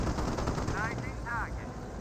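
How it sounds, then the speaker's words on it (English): Hotchkiss barrage fire rattles in a Company of Heroes 1 battle, rapid and continuous with whistling shells overhead, while a commentator talks over the din. "More Hotchkiss barrages raining on in."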